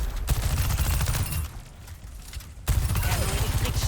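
A character fires a weapon in the Overwatch 2 beta, with a continuous rattling burst of rapid shots, a short lull in the middle, then the loud fire picking back up.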